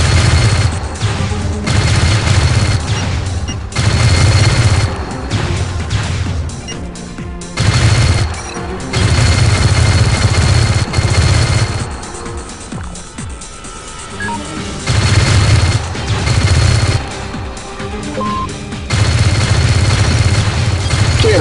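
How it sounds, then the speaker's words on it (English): Spaceship guns in the 2000 space combat game Starlancer fire in loud, sustained bursts that stop and restart in repeated waves, with deep booming blasts alongside steady rapid-fire chatter and no talk. "Guns in pairs can be switched from constant to alternate firing by pressing the alternate synchro button."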